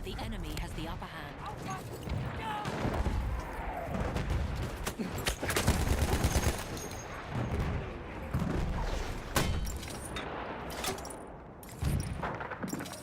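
Mortar fire in Battlefield 1, a run of heavy distant booms and blasts scattered irregularly through a noisy battlefield mix, with a player talking over the explosions throughout.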